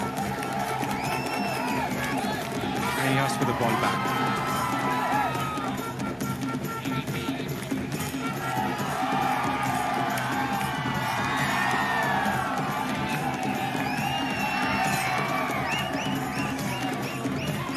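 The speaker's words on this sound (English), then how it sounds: "The crowds are so excited to have him here to witness the game." A large outdoor crowd at a men's kabaddi final cheers, whoops and shouts continuously, with children's shrill calls rising out of the steady roar. A commentator speaks over it.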